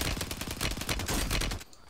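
Rapid automatic gunfire in the video game Warzone, a dense, loud stream of shots lasting nearly two seconds before cutting off abruptly.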